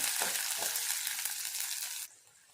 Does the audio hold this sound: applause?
no